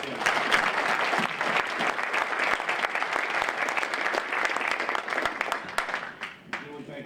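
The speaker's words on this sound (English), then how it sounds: "let's give one more round of applause for our outstanding election candidates." A club audience applauds its election candidates at a meeting, a steady, full round of clapping that holds strong for several seconds before thinning out and tapering near the end.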